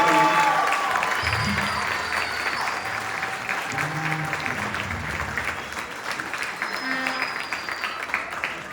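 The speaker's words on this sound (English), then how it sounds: "one more round of applause for all the performers" Loud, sustained applause from a school spring concert audience after a jazz band performance, steady throughout with a dense crowd wash and some cheering or voices mixed in.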